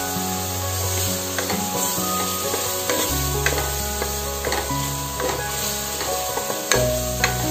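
Food sizzles loudly in a pan as it is stirred repeatedly, with scraping taps against the pan and steady background music underneath.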